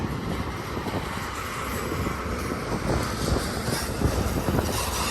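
A continuous heavy rumble and rhythmic clatter of a BNSF eastbound intermodal freight train, mostly J.B. Hunt cars, rolling past nearby, steady and loud throughout with no voices.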